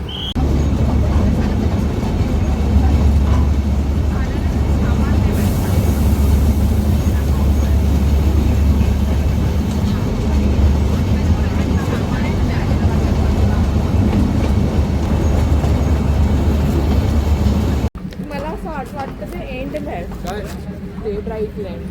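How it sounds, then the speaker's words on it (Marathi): The Matheran toy train rumbles steadily along with a low, continuous roar, then the noise drops and fades near the end. "आता आम्ही जाणार आहोत टॉय ट्रेनने"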